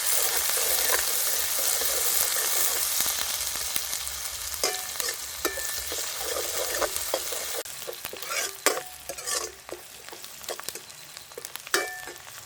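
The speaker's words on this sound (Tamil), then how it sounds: "இது நல்லா முருகி பொருகி மட்டும் நான் தாளிக்கிறேன்." Hot oil sizzles and crackles as garlic, onion and curry leaves fry, with scraping stirring sounds and sharp pops growing more frequent toward the end.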